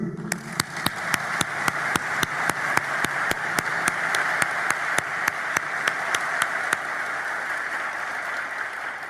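A graduation ceremony audience bursts into sustained applause, dense and steady for the whole stretch, with sharp individual claps cracking through the wash of clapping.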